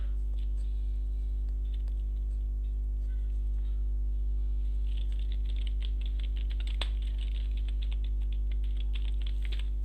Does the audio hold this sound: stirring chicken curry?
no